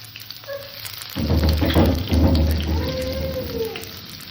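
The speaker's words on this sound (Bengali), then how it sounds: "পেঁয়াজটাকে আমি হালকা সোনালি করে ভেজে নিয়েছি" Chopped onion dropped into hot oil with tempering spices in a pan, a loud sizzle bursting in after a quiet start and then crackling steadily close by.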